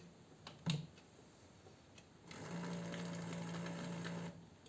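A Xiaowei automatic liquid soap dispenser runs its motor for about two seconds, a steady close whirring hum after a faint click, in a quiet room.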